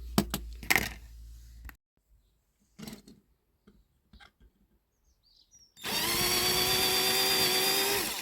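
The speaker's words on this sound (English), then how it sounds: "Get my drill in." After a few scattered clicks and taps, a power drill with a small bit whines loudly and steadily for a couple of seconds, close by, drilling into a diecast toy Datsun 240Z.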